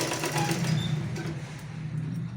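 A sewing machine stitches two parts of a blouse together in a steady close mechanical whir, with a low motor hum and rapid needle rattle running continuously throughout.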